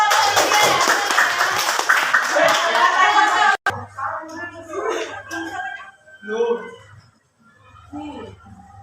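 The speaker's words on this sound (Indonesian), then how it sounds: "Ya, tepuk tangan untuk" A group of people claps hands together in a classroom, dense brisk applause for about three and a half seconds that stops abruptly, followed by a person speaking.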